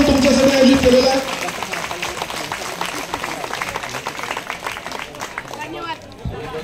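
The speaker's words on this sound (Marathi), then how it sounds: "तो जरा जोरदार टाळ्या वाजवूया" An audience at a women's haldi-kumkum gathering applauds a honoured legal expert, a steady wash of clapping over crowd murmur and a speaking voice at the start.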